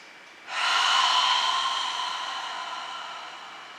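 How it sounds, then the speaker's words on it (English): A single long breath out through the mouth at the close of a hatha yoga flow, a broad airy hiss starting abruptly and trailing off slowly, close and fairly loud, with no talking. "taking a breath in and releasing that practice with a long breath out through the mouth"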